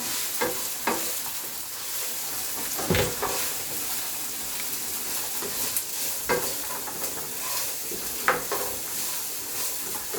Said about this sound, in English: Gonna mix this up with the olive oil.